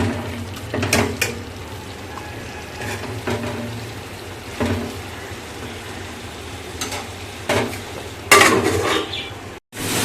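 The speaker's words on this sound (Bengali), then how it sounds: "জিরে শুকনো লঙ্কা ফোড়ন দিয়ে বসিয়ে দিয়েছি" Cumin seeds and dried red chillies sizzle in hot oil for a vegetarian dish, with a steady low frying hiss broken by occasional clinks and knocks of pots and utensils in a home kitchen.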